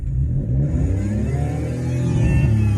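A simulated racecar engine from the RevHeadz app revs up steadily and loudly, its pitch climbing smoothly toward the red line over a few seconds.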